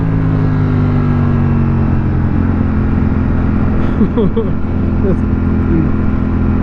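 A 2023 Ducati Streetfighter V4 SP2 motorcycle engine holds a loud, steady droning roar at speed on the road, with wind rush and a brief rise in pitch partway through.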